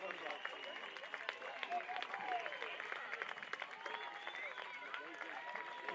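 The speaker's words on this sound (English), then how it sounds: "Right, round of applause for these players coming onto the field now." Crowd applause and cheering as players come onto the field at a women's polocrosse test match between Zimbabwe and the United Kingdom, steady clapping from a moderately distant crowd lasting throughout.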